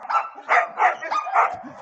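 A dog barks excitedly in greeting, a rapid run of about five loud, close yapping barks in quick succession with brief gaps between them.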